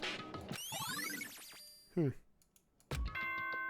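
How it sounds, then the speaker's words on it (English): Announcement chime in the Danganronpa: Trigger Happy Havoc video game, with bright sweeping tones rising and falling, followed by a short burst and a clear ringing tone. "Ding dong, bing bong."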